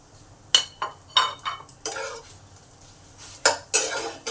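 A utensil clinks and scrapes against a pan in a series of quick, separate strokes while an egg and onion mixture with chilli flakes is stirred, with quiet gaps between.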